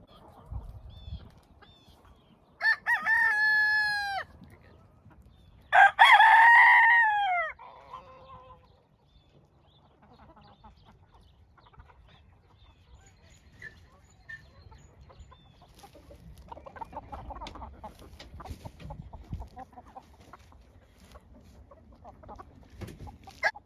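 Chickens cluck and squawk in two loud bursts early on, then softer scattered clucks and scratching continue against a quiet outdoor background.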